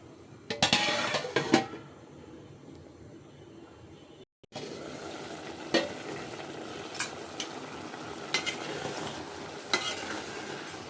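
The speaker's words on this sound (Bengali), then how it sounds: "এখন ভালোভাবে নেড়েচেড়ে একটু ঢেকে রাখবো" Bottle gourd and egg curry being stirred in a pan, a few clinks of a utensil on metal at first, then a brief gap and a steady gentle sizzle with occasional soft scrapes.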